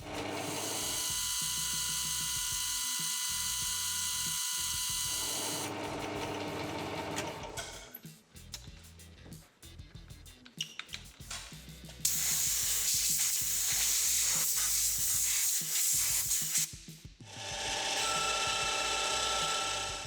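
A lathe or mill cutting a radius into a steel V-block with a button insert, a loud close mechanical whir with chattering, grinding bursts that start and stop as the tool pecks in and out.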